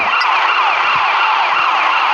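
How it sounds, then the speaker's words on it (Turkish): An ambulance siren wails loud and close in the GTA Chinatown Wars video game, a continuous rising and falling electronic tone with no talk. "sonunda bir tane ambulans bulabildim"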